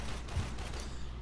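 Sci-fi weapons fire in Warframe crackles in a dense, continuous barrage of shots and impacts, steady and moderately loud throughout, with no speech.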